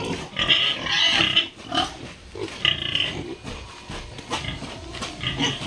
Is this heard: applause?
no